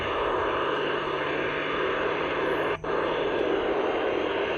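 A steady broadband hiss of a STANAG HF radio data signal between 13 and 14 MHz, with a constant data-like buzz running throughout, briefly cutting out for an instant near the end.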